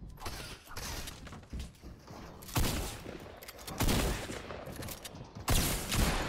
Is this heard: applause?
no